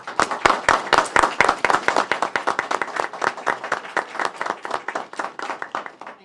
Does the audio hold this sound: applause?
yes